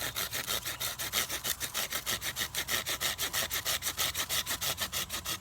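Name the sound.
sawing a juniper wood bow drill spindle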